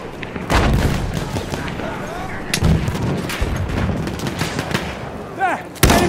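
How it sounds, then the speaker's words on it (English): Enemy gunshots in a multiplayer team deathmatch shooter game, sharp loud cracks scattered irregularly over a busy battlefield bed, with a heavy close shot near the end and voices calling out between the bursts. "That's an enemy shot."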